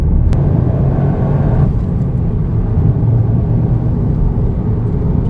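Interior road noise of a Toyota Yaris GR hot hatch driving over a rough, potholed road: a loud, constant low rumble of tyres and engine with occasional thumps from bumps.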